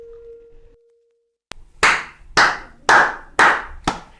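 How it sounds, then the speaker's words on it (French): Hands clap five times in an even rhythm, close and loud, each sharp clap standing alone after a brief tone and a single tap. "J'applaudis."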